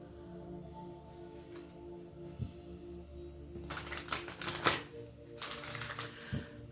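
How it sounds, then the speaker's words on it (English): A deck of cards is shuffled by hand, with soft handling sounds first and then a few quick riffling bursts close up. There is no talk. "So I've shuffled these cards and we're gonna lay these out."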